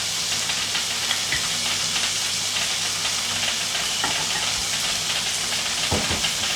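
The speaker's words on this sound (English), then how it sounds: "the dumpling that is steaming" A dumpling steams in ramekins and cups, giving a steady broadband hiss with faint sizzling crackle and a few soft knocks, close and continuous with no talking.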